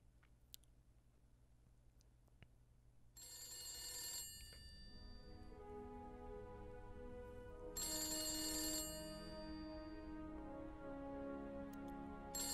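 A telephone rings in the horror video game The Beast Inside, sounding two bright, fairly loud bursts of bell ringing separated by a long pause, with faint ticking in the background and no talk.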